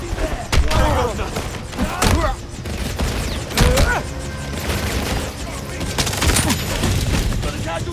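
Gunfire in the video game 007 First Light comes as rapid bursts of sharp, loud shots in uneven clusters, with voices shouting faintly in between.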